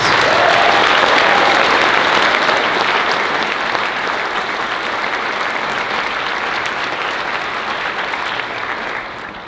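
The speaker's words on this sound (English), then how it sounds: "let's give these students one final round of applause" A concert audience gives a middle school select band a long, loud round of applause, a dense sustained roar of clapping that gradually thins and fades near the end.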